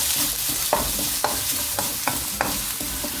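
Finely diced red bell pepper and onion fry in oil while being stirred, with a loud, even sizzle broken by rhythmic spatula scrapes about every half second.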